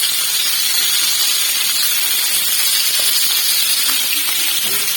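Green chillies frying in hot oil give off a loud, dense hiss and sizzle that runs steadily throughout, close up and uninterrupted, with no voices.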